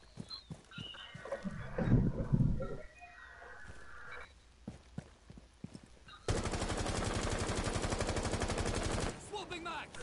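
Video game gunfire, a sustained rapid burst of automatic shots lasting a few seconds, following scattered horse clip-clops, whinnies and bangs in a busy in-game scene.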